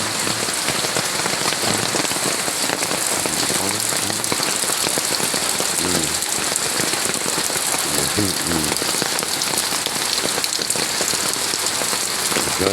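Heavy rain falls on a farm in a constant, loud wash of pattering drops, with a voice briefly surfacing beneath it now and then.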